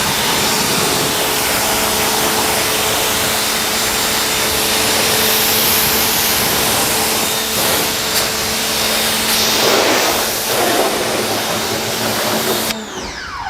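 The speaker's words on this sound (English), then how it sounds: "I'm going to go ahead and rinse the engine compartment down." High-pressure water spray rinses down a car's engine compartment in a loud, continuous hiss that holds steady throughout, ending abruptly near the end.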